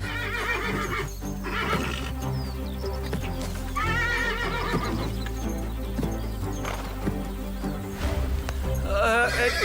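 Several horses in a field neigh and whinny loudly and repeatedly, with clip-clopping hooves and people talking over the commotion.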